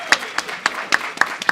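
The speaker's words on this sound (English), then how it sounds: "You guys clap it up for these contestants" A convention audience claps for contestants at a National Action Network anniversary event, with a short burst of scattered, evenly spaced hand claps, close and distinct, over faint room noise.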